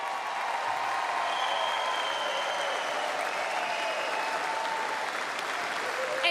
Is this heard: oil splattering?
no